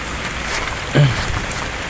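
Heavy rain pours steadily around a Rusi TC Macho 125 motorcycle on a flooded road, a dense, close hiss with no break and a brief low thump near the middle.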